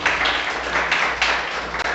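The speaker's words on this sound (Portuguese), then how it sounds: "Dê uma linda salva de palmas ao nosso Deus" A church congregation claps together in steady, dense applause, a continuous crackle of many hands held at an even level for the whole stretch, with no voices standing out.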